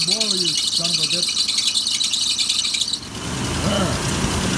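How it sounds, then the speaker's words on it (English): Engine belts on an old Oldsmobile Cutlass or Buick Electra squeal after a cold start in winter, giving repeated close, high chirping squeals over the rumble of the idling engine before shifting to a rougher rattling squeal. "Now I just gotta listen to those stupid belts for a minute."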